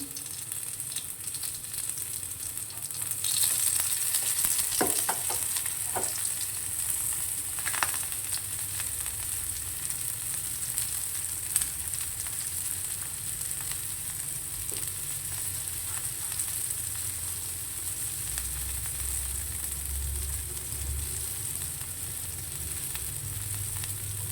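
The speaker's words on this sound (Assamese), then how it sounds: "ল' ফ্লেমতে ভাজিম" Jackfruit seed and potato cutlets fry in oil in a kadai over a low flame, a steady, moderate sizzle with occasional crackles and a few utensil taps, no talking.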